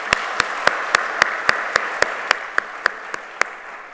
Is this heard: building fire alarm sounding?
no